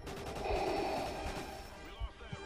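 Someone breathes heavily and raspily into a microphone in a Darth Vader imitation, with drawn-out gasping breaths and a few sharp bursts near the end.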